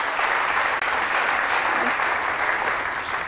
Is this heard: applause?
yes